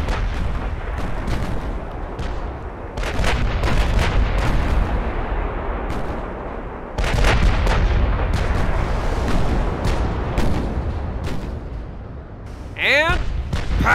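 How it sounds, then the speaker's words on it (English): Battleship 20-inch main battery guns in quad turrets firing in a naval video game, heavy booming salvos rolling continuously over a dense low rumble, with a faint sharp whistle near the end. "Absolute devastation from those 20-inch main batteries."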